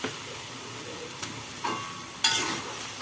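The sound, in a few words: stirring soup with boiled eggs in a pot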